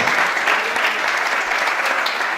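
Loud, close applause from a church congregation during a Sunday Spanish-language service, dense continuous clapping without pause.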